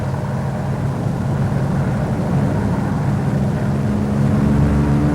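A Vought F4U Corsair fighter climbs out after takeoff, its piston engine a loud, steady, low droning roar that holds evenly throughout.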